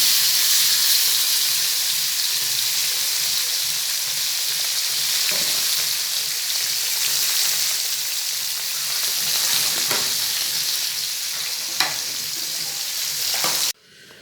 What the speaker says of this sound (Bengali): এই মাছ ভাজা চলছে